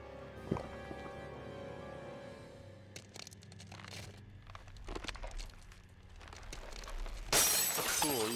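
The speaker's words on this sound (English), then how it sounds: "Cool, you can break a glass cup." Glass cup shattering in the video game Tales of Arise, one sharp bright burst of breaking glass near the end, after quiet game ambience and scattered soft clatters.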